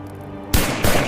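A shotgun fires at close range with a sharp, loud blast, followed moments later by a second booming report and its rumbling tail.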